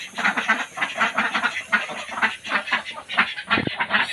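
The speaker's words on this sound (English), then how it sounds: "Wow, beautiful ducks." Many white ducks quack in a continuous, overlapping chorus on a duck farm in Chirang, Assam, close by and fairly loud, with rapid repeated calls throughout and no talking.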